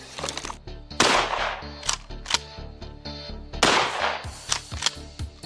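Cheap Chinese-made shotgun firing tornado slugs outdoors, a string of sharp loud blasts with mechanical clatter and ringing between shots, irregular spacing, no talk.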